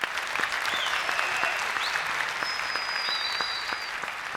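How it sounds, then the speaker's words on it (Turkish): A studio audience on a Popstar talent show claps steadily in a sustained round of applause, with faint whistles rising above the clapping. "bu büyük duayenler için bir kere kocaman alkış lazım"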